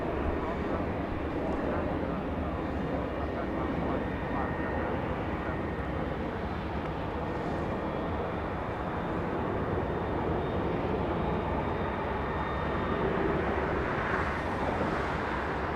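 An Iberia airliner departing northbound at Los Angeles International Airport at night gives a faint, distant, steady engine rumble that lasts throughout, with a slight swell near the end.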